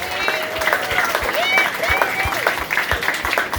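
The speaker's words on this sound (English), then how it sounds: "please give them a round of applause" An audience at a May 11, 2024 event claps as board members are introduced, scattered steady applause with voices and cheers talking over it throughout.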